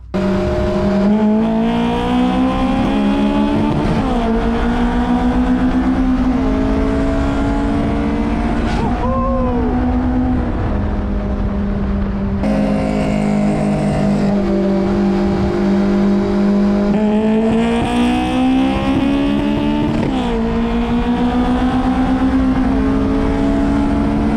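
A Honda S2000 sports car engine roars continuously while racing another S2000, rising and falling in pitch as it accelerates and shifts through gears at high speed, loud and close throughout.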